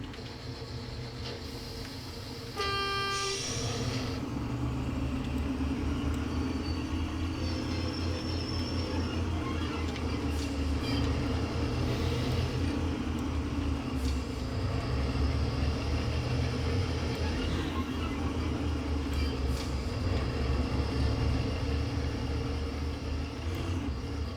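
Train rolling steadily on rails in Train Simulator while shunting around a museum line, a continuous low rumble and rattle of wheels and wagons with a brief horn-like tonal burst near the start, no talking.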